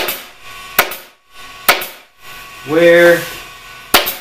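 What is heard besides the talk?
stapling fabric onto a cornice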